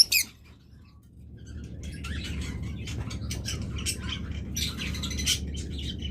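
A shop full of pet lovebirds chirping and squawking, with dense overlapping tweets close by over a low steady background hum.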